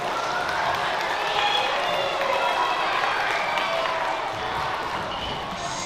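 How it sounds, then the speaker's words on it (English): An audience at a Fubuki Daiko taiko drumming performance breaks into steady, dense applause that holds evenly throughout, with a few whistles and cheers rising above it. "how about another big round of applause for all of you guys"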